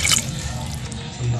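Water poured into a pan of sautéed Filipino ulam during cooking gives a brief bright splash at the start, then a low, steady watery hiss with faint background voices.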